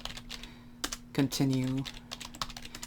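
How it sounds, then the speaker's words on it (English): Clicky bursts of typing on a computer keyboard while chatting in a terminal chat app, close and fairly loud, mixed with a person speaking briefly and a steady electrical hum. "we can keep typing whatever we want"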